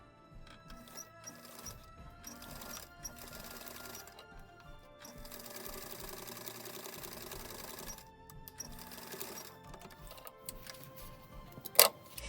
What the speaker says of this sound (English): Okay, I'm gonna go and sew.